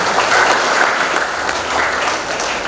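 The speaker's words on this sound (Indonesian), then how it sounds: "Bapak Oke, kita beri aplaus luar biasa." An audience applauds loudly and steadily at a corporate sharing event, dense clapping with no break for the whole short stretch.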